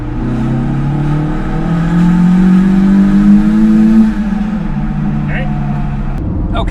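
Car engine accelerating while driving through a tunnel, revs climbing steadily then dropping, loud and close with a voice talking over it.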